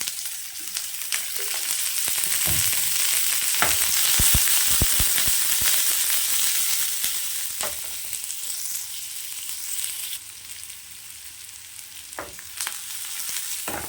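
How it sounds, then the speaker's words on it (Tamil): Onions fry in oil for egg curry with a loud, continuous sizzle close by, broken by sharp crackles and pops, easing slightly toward the end, no one speaking. "வெங்காயம் சேர்த்துக்கலாம் எண்ணெய் சேர்த்துக்கலாம்"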